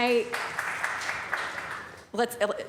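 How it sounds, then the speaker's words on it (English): A short patch of scattered clapping in a council meeting, fairly faint and lasting under two seconds, between stretches of a person speaking at the microphone. "don't take my time with clapping"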